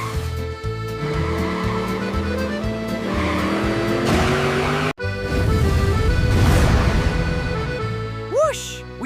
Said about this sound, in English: My normal taxi transformed into a racing machine!